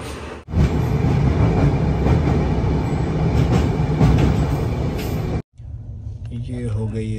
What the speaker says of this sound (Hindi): हमारी ट्रेन अभी खुली है, 4:10 पे खुल चुकी है Delhi new Delhi railway station के 1 नंबर प्लेटफॉर्म से